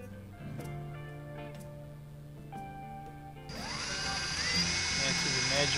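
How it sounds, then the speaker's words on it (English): Power drill boring out a broken bolt on a Husqvarna 525BX leaf blower, a faint ticking start that jumps into a loud, steady high-pitched whine in the second half. "and drill it out."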